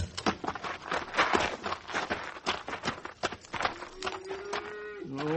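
In a Western radio drama, hoofbeats and clattering cattle sounds rush along before a single drawn-out cow moo rises clearly near the end.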